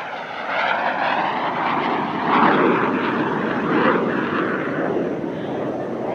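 Aerobatic team jets flying the flag cross manoeuvre at the Dubai Airshow 2023 produce a loud, sustained engine roar that swells and shifts as they pass, with a voice talking over it.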